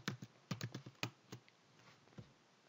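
A computer keyboard is typed on close up as a component name is entered, with about ten crisp keystrokes in quick bursts separated by short pauses, quiet and alone.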